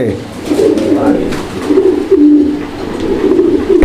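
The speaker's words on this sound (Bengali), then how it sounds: "লোটন কবুতর যদি না লুটে এই যে দেখেন কিভাবে লুটাইতে হয়" A Lotan roller pigeon cooing close by in low, continuous throaty coos, with faint talk in the background.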